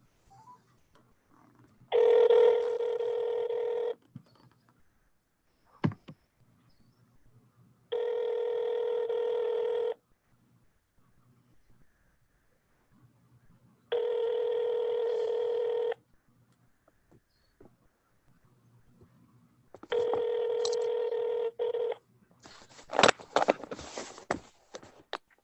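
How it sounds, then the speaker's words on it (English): Phone dialing and then a ringing line: a few short tone blips, then four evenly spaced long ring tones separated by silence, ending in a burst of clicks and handling noise, with no one speaking. "Okay, I'm dialing it right now."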